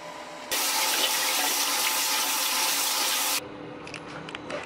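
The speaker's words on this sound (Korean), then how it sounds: "굳이 설명하지 않고 씻어낼게요" Tap water runs steadily for about three seconds while foam cleanser is rinsed from a face at a bathroom sink, then cuts off, leaving faint drips and handling sounds.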